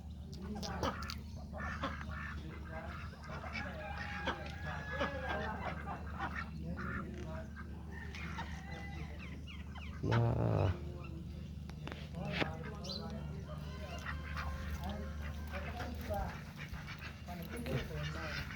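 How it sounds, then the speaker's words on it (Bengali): Ducks and geese honk and call at an outdoor animal park, scattered and fairly distant, mixed with a barking dog, background chatter and wind. "সব হাঁস প্রজাতির"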